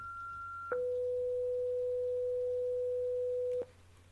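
A steady pure sine tone sounds alone, then jumps abruptly down to a lower pitch and holds there for about three seconds before cutting off, with a faint low hum underneath.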